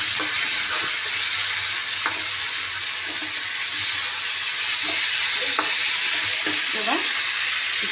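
Fish pieces sizzle loudly in hot oil in a pan, a dense continuous frying hiss with occasional clinks and scrapes, close and steady for the whole stretch.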